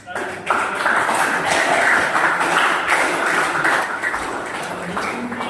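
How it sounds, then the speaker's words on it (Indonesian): An audience applauds steadily for about five seconds at a gathering, the clapping loud and dense, with a voice heard talking over it. "silakan boleh tepuk tangan untuk"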